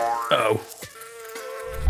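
A cartoon bee buzzes in a short, wavering burst near the start, then fades to a softer, sustained hum that runs on alone to the end.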